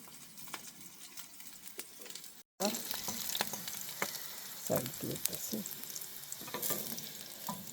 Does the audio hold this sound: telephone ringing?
no